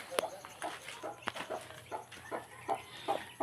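Mother hens with newly hatched chicks cluck in short repeated bursts at close range, with soft rustling and faint farmyard noise between the calls.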